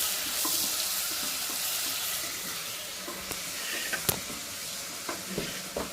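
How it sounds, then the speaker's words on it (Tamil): Ginger garlic paste sautéing in a pan for chana biryani, a steady sizzling hiss with occasional stirring scrapes and clicks, close and continuous without talk. "நல்லா வதங்கணுங்க."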